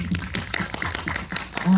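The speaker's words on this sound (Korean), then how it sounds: "박수." Audience applause during a post-screening talk with an actor at a Korean film festival special screening, scattered claps of moderate loudness with some talk under them.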